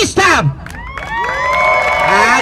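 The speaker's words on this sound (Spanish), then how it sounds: "queremos gritos y aplausos, por favor" A mostly young audience at a clown show erupts in high-pitched shouts, whoops and cheers, loud and close, with a little clapping mixed in.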